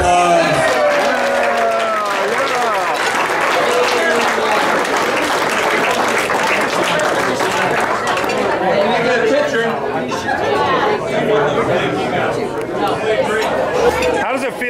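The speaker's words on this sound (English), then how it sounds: "Let's give him a round of applause." Steady applause fills a room at a golf banquet, dense and continuous, mixed with crowd chatter and voices throughout.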